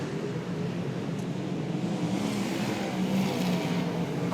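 V8 dirt modified race cars roar around Archerfield Speedway in Brisbane during an A-Main, a dense, steady blend of engines from a pack of cars, heard at moderate distance without a break.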